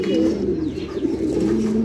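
Large club pigeons coo continuously nearby, a dense low warbling with steady overlapping calls and no pauses.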